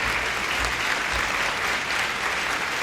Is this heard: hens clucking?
no